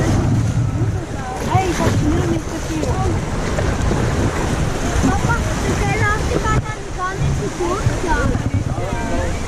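A river rapids ride at the Tripsdrill theme park gives out continuous rushing, churning water close by as the raft passes the whirlpool, with faint chirps and distant riders' voices underneath.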